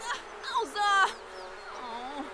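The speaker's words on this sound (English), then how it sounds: "And she wants to bond with the bees" Bees buzzing around a hive in The Sims 4, a faint insect drone mixed with chirpy game sound effects and brief tonal chimes.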